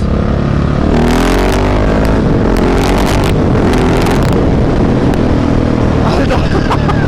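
A 2017/2018 Husqvarna 701 single-cylinder motorcycle with a Mivv exhaust accelerates hard, its loud, close engine note climbing through the revs with a rising pitch, while a rider talks excitedly over it.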